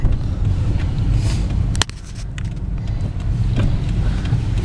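A car rolling along a road, a steady close engine and tire rumble with a sharp click or bump partway through, no talk.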